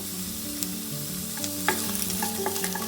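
Ingredients for a village-style spice powder sizzle and crackle in a pan while being stirred. Close scraping strokes break through the steady frying hiss, over a faint background tone.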